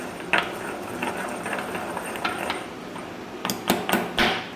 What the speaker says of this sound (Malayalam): കുറച്ചുകൂടി വെള്ളം ഒഴിച്ചിട്ട് ഒന്ന് ചതച്ച് കൊടുക്കാം